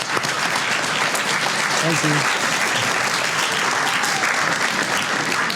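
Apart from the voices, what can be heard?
audience applause for three astronauts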